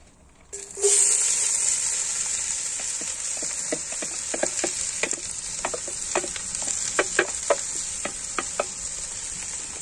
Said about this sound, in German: Tun wir die Zwiebeln schön anrösten.